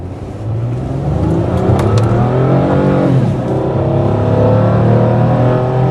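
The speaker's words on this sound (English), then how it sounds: "I'm taking the car for a test drive really quick" A 2009 Ford Fusion hums along on a test drive, its engine drone and road noise loud and close from inside the cabin, rising slightly as it accelerates.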